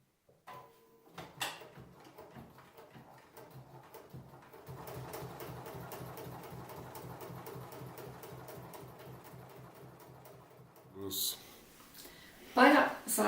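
A sewing machine stitches a decorative seam on cork fabric for a shopper bag, using thicker thread and a stitch length of about 3 mm. A quick, even run of rhythmic stitching builds in the middle, then stops, followed by brief handling noises.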